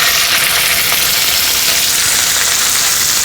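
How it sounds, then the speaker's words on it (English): Seasoned wild bison steak sears in a hot cast iron pan, giving a loud, steady, close sizzle that crackles continuously without a break. "I'm just going to throw that in the pan to sear."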